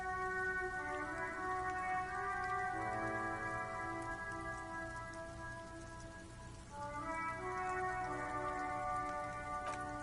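Steady rain falls throughout, a broad hiss of drops on a surface with a sustained tonal hum or music layered over it, dipping slightly in the middle before swelling again.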